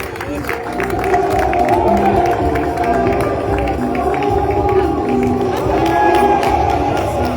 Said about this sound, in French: On clôture avec des applaudissements pour l'équipe Fan